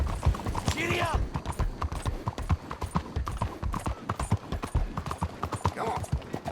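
Horse hooves in Red Dead Redemption 2 clop rapidly and steadily as the horse gallops close by, with a brief voice calling out over the rhythmic hoofbeats.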